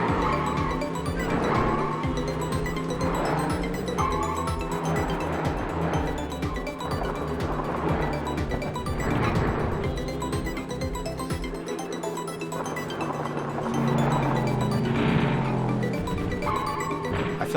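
Arcade racing car from the 1996 Nintendo 64 game Cruis'n USA droning steadily with engine hum, tire noise and layered game music throughout, no talk.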